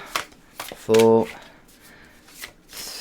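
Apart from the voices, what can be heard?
shuffling a deck of tarot cards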